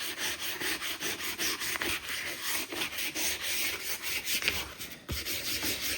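Rapid back-and-forth rubbing strokes of 400-grit sandpaper on a Cub Cadet chrome hubcap, close and fairly quiet, in a steady scratchy rhythm of short repeated passes.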